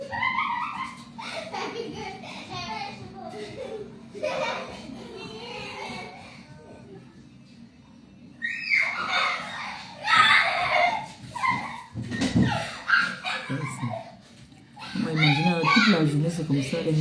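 Young boys play and shout indoors instead of napping, with bursts of excited yelling, squeals and chatter coming and going over several seconds at moderate distance, and an adult voice talking intermittently.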